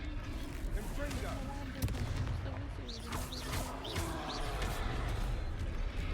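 Confringo blasting-spell explosions in the video game Hogwarts Legacy crack out in a rapid series of sharp bursts over busy game sound, fairly faint and under a muffled background.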